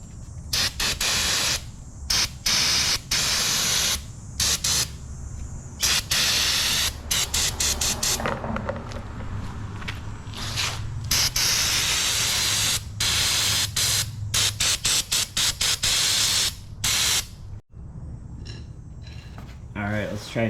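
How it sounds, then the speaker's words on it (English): Carb cleaner sprays onto the carburetor of a Polaris Sportsman 500 H.O. ATV in loud, close hissing bursts of varying length, separated by short gaps and mechanical clicks. "All right, let's get this sprayed down."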